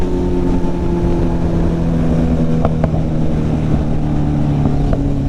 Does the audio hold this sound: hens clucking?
no